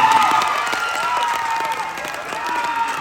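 A pageant audience at the Misters of Filipinas 2022 final Q&A keeps up continuous applause and cheering, with shouts and whistles rising over the dense clapping throughout.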